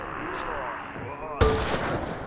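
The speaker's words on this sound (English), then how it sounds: "let's test out this PIGGIEZZZ rifle" A rifle in the video game Shotgun Farmers fires a single sharp, loud shot over continuous game background noise, its crack trailing off into a brief rumble.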